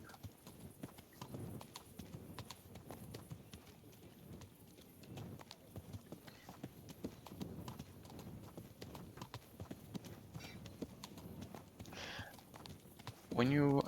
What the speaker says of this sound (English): Just galloping your horse.